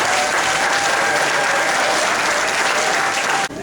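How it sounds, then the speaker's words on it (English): A loud, dense round of applause from an audience at a Cub Scout pack graduation and awards ceremony, steady many-handed clapping that continues unbroken before cutting off abruptly at the end. "Let's give a huge round of applause for them"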